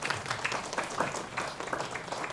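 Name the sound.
congregation applauding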